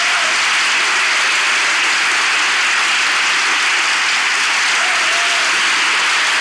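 Steady, dense applause from a studio audience opens a Turkish TV relationship-test segment, filling the whole stretch at loud, even strength, with no pauses and no voices heard over it.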